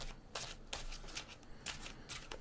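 Playing cards are shuffled during a Magic: The Gathering Commander duel, a close, quiet riffle of repeated papery bursts in a steady rhythm with no talk.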